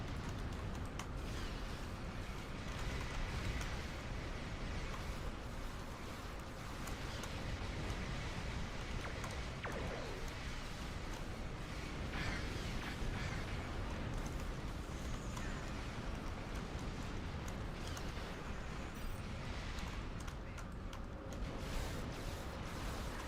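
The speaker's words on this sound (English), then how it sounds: "Jeez, there's so many explosions going on, I can't even see what's around me." Dense, continuous rumble and crackle of many explosions during a space combat video game, a steady loud wash of blasts and debris with no pauses, spread across the whole stretch.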